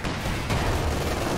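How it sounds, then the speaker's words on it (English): In a Company of Heroes match, an M1 gun fires a deep, booming shot, close and heavy, with a low rumbling thud that lingers briefly. "The thud of the M1."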